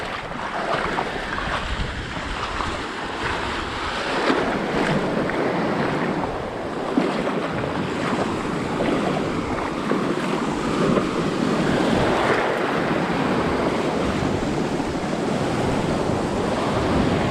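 Ocean waves wash continuously against the rocky coast of St Croix, a broad steady surf roar mixed with wind buffeting the microphone, with no talk.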